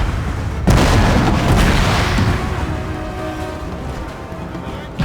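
Cannon volleys from an artillery battery in the video game Napoleon: Total War, a sudden loud boom followed by several seconds of rolling, rumbling blasts that slowly fade.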